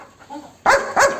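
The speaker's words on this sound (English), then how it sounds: "dog," A dog barks twice in quick succession, fairly close and moderately loud, after a faint whine-like sound, with no talk over it.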